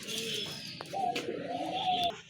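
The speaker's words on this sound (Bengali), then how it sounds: "একজোড়া ইন্ডিয়ান মুম্বাই কবুতর" Indian Mumbai pigeons cooing close by in a bird seller's collection, soft low warbling coos repeating over a background hum, with faint chirps and a couple of sharp clicks.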